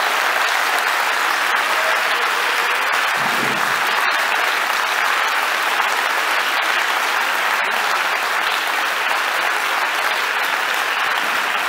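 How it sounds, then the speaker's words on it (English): Sustained, dense applause from an audience at a talk, loud and steady throughout with no break, and no voices rising above the clapping. "let's thank her with one final applause"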